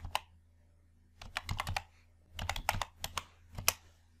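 Computer keyboard typing while entering an Excel formula, close and crisp: scattered bursts of clicky keystrokes separated by short pauses, with no voice.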